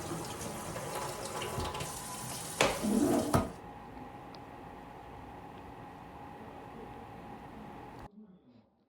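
Water pours from a container holding about five liters back into a hydroponic Kratky tomato setup, a steady splashing stream with a brief louder gush before it settles and stops.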